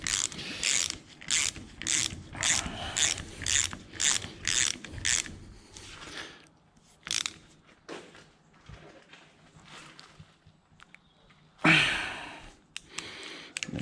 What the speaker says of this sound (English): If I get the ratchet,